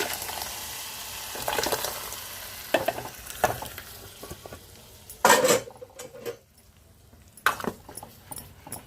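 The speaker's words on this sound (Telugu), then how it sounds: "ఈ పప్పు పోపులో వేసేసుకుందాము" Cooked yellow cucumber dal tipped into hot tempering with asafoetida pieces, giving a burst of sizzling and frying with spoon stirring and pot clatter, loud crackles in short surges over a steady hiss.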